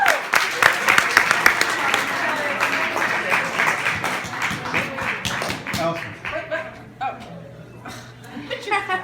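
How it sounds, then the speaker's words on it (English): Audience applause for a woman being thanked, dense clapping with scattered chuckles and talk over it, tapering off toward the end as voices take over. "So a huge round of applause for Miss Allison."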